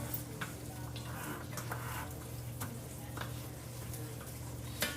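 Peppers, onions and minced garlic sizzle steadily in a pan, a constant frying hiss broken by light clicks and taps of stirring throughout.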